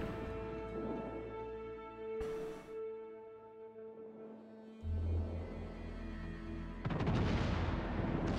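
Big guns of the battleship Musashi firing in a naval video game, deep booming blasts with a heavy broadband burst near the end, mixed with game sounds and no talk.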